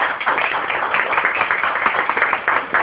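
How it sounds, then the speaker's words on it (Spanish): A church congregation standing up to applaud during a Spanish-language service, a short burst of close, somewhat muffled clapping from many hands, steady and moderately loud. "Si querés darle un aplauso al Señor"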